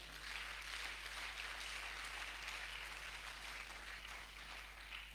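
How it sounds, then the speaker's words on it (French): Congregation applause at a church service fills the space as a steady, dense wash of clapping from a crowd, continuous and moderately loud with no voices over it. "Est-ce qu'on peut applaudir le Seigneur?"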